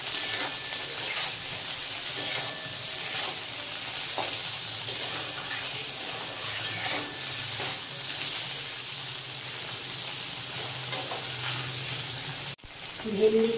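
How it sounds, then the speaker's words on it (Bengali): Okra (bhindi) frying in a pan with turmeric and salt, a dense, even crackling sizzle running steadily throughout with faint stirring, briefly dropping away near the end. "ভেন্ডিটা ততক্ষণে ভাজা হতে থাক।"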